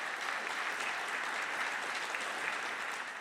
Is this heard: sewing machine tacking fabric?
no